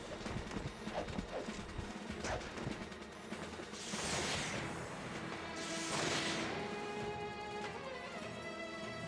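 A mounted horse unit attacks and misses in a tactical fantasy battle game: hoof clip-clops and clashing hits, then two whooshing swings, moderately loud with no talk.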